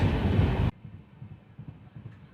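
Aboard a Humsafar Express train pulling into platform 2 at Malerkotla station: a loud, broad roar for under a second cuts abruptly to a faint low rumble with soft, rhythmic thumping underneath.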